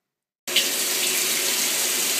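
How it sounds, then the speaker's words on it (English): Water suddenly starts pouring into a washing machine doing laundry, a loud, steady hissing rush that begins abruptly after silence and continues evenly, with no voices. "I see water going into here, so that's good."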